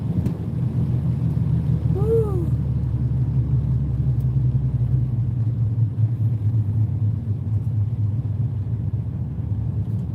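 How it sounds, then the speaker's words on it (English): A car driving along with a low, steady engine and exhaust rumble heard from inside, constant throughout, with a brief faint chirp partway through. "this car, it's ridiculous how good it sounds"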